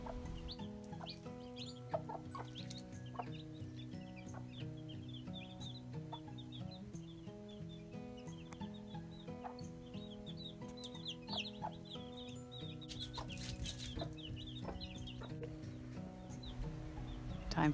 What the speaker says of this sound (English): This mama just showed up with her little chicks, and it's been so sweet watching them.